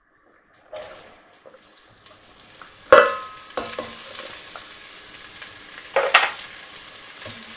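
Chopped onion drops into a pan of softening carrots and bursts into a sharp sizzle, then a steady frying hiss continues with scraping stirs and a second louder sizzle surge, close by with no talking.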